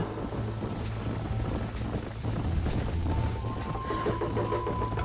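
Steady rhythmic hoofbeats of galloping horses in Red Dead Redemption on PS5, with a constant low rumble underneath, close and continuous.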